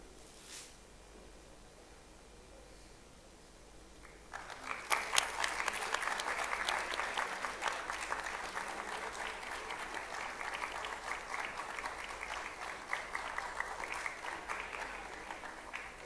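Audience applause at a formal ceremony in Odisha, bursting in after a quiet opening and continuing as steady, dense clapping from a large crowd until the end.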